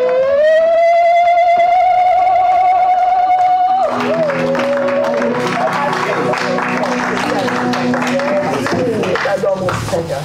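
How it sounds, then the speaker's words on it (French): A church congregation loudly acclaims the Lord with cheering, clapping and shouts over a sustained, wailing sung or instrumental tone, a dense and continuous crowd roar filling the room. "Acclamons très fort le Seigneur"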